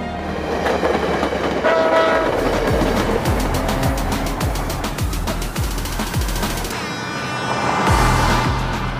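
A passenger train travels through Manitoba with a loud steady rumble and rhythmic clickety-clack of wheels on the rails, and a horn sounds near the middle and again toward the end.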